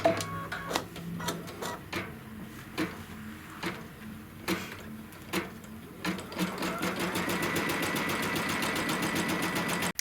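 A sewing machine stitches the tack-down and quilting on a quilt, running in short bursts of rapid needle clatter with brief pauses, then settling into one steady, continuous run near the end.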